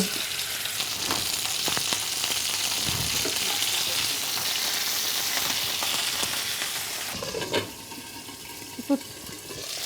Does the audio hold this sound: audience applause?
no